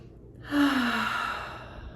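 A single deep sigh-like breath, drawn in and let out slowly over about a second and a half, close and clear with no talking.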